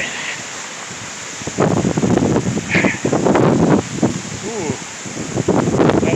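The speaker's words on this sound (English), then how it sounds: "That wind's getting worse." Strong storm wind during a severe thunderstorm in Van Buren County, Michigan, roaring and buffeting the microphone in loud surging gusts, with debris rustling from nearby trees and a person's voice heard briefly.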